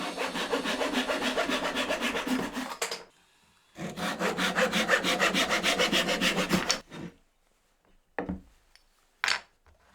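A hand saw cuts small pieces of sapele wood in two bursts of quick, rhythmic strokes, loud and close, followed by quiet with a few light knocks.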